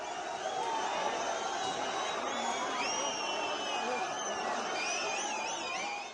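A protest crowd facing police who use lathi charges and water cannons: a dense, continuous roar of many voices with whoops and shouted slogans rising above it, loud and sustained throughout.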